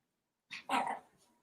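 A pet dog barks twice close by, a short yip followed by a louder, fuller bark, with nothing else around it.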